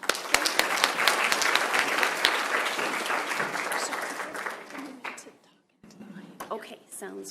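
Audience applause welcoming Dr. Kong, an acupuncture physician, at a forum: a dense burst of clapping that fades out after about five seconds, followed by a brief gap and then a voice talking.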